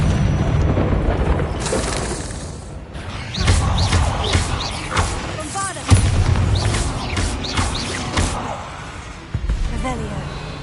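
Bombarda spell blasts in Hogwarts Legacy, several booming impacts spread over ten seconds with crackling debris between them, while a voice talks over the action.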